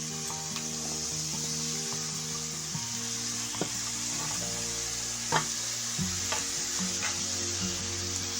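Beans, carrot, cabbage and capsicum stir-fried on full flame for restaurant-style fried rice, a steady loud sizzle with occasional scrapes and clinks of the spatula, and no talking.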